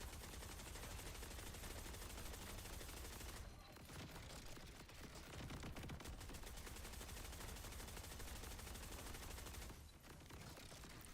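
Sustained automatic gunfire in Borderlands 4, a dense continuous rattle of shots lasting several seconds with two brief breaks, heard on its own without talk.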